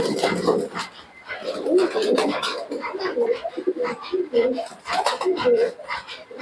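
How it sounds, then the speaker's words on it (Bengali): Close cooing from teddy pigeons, low and rolling, repeats in short phrases while a person talks intermittently over it. "দেখি কবুতরের ডাক দেখুন"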